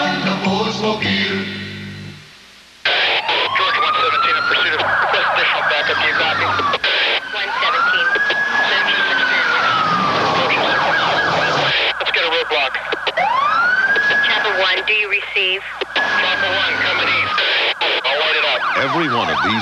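Police car sirens wailing loudly and close in a 1989 Goodyear Eagle tire television commercial, rising and falling in repeated long sweeps over a busy, dense mix of engine and street noise after a brief quieter opening.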